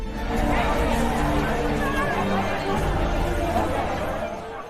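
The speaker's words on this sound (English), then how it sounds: "Soon, there was a huge crowd." A huge crowd of townspeople chatter together in a dense, continuous babble of overlapping voices, loud and close throughout.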